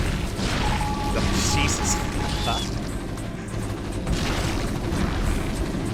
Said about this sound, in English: Oh god, that's a lot of tank shots.